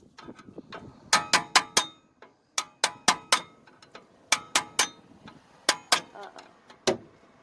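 Metallic clinks and ratcheting clicks from tightening a car's e-brake, in short bursts of three or four sharp strikes separated by pauses, fairly close and loud, with faint background noise.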